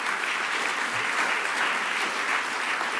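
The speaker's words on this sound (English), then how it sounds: "let's give him a round of applause for 5 years running this outfit." An audience at a medical journalists' awards ceremony gives sustained, even applause, a dense wash of clapping from many hands.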